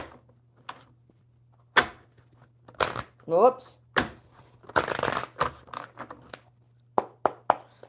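Tarot cards being shuffled in a few brisk bursts, crisp riffling and slapping close up between quiet pauses, with a person speaking briefly and a steady low hum beneath.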